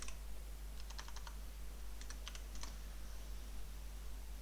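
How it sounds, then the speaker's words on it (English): Computer keyboard typing while entering a query in database software: two short bursts of quick key clicks, fairly faint over a steady background hum, with no talking. "if I type in Saturday"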